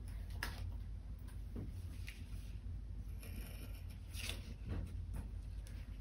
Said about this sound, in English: I'm gonna take my X-Acto knife and just kind of fix that